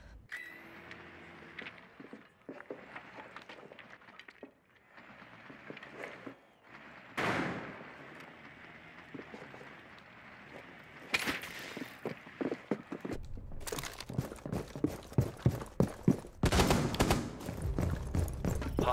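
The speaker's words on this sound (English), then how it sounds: "Shotgun going live." Shotgun blasts in Rainbow Six Siege, several sharp shots scattered through the later half amid footsteps and in-game noise, with quieter gear movement earlier.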